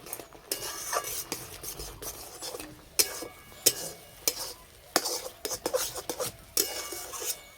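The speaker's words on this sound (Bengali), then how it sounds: "হালকা আঁচে সুজিটা শক্ত করে রান্না করে নেব।" Semolina and mashed potato dough stirred in a pan over low heat, close scraping and rasping strokes repeating irregularly with a faint sizzle underneath, no talking.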